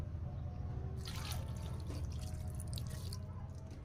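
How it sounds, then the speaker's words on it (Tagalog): Half a cup of vinegar poured into a pot for milkfish paksiw: after a quiet start, a soft splashing pour runs for about two seconds, then trails off into faint dripping. "Maglalagay din po ako ng one half cup ng suka."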